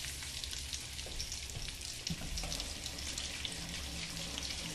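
Fish fries in bacon grease in a pan, a faint, steady crackling sizzle with small pops and light clatter throughout.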